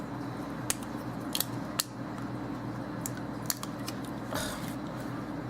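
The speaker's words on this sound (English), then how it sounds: "since I don't have that tool handy, I'm trying to use some scissors" Scissors poking holes in a paper Valentine card, a few sharp faint snips and punches spaced irregularly against quiet room hiss.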